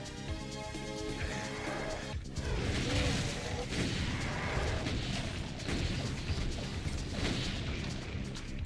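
Rocket launcher fire and blasts in Doom II, a dense, continuous wall of booming explosions and loud game action, with music-like tonal layers at the start before a sharp break into heavy blasts.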